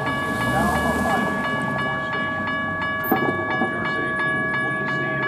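An outbound Metra commuter train arrives at the Arlington Heights station during the evening rush, a loud continuous rumble with steady tonal hum and regular rhythmic clacks close by, one brief louder knock midway.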